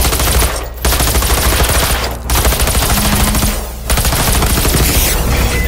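Loud, sustained automatic gunfire from Generation Zero, aimed at a robot tank's fuel tank, rattles in rapid bursts broken by two or three brief pauses, with no talking.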